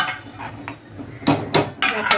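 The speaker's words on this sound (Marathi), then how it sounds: "आणि पुन्हा याच्यावरती झाकण" Metal clanks sharply a few times as a lid is set on a pot of chole, with faint background noise between the knocks.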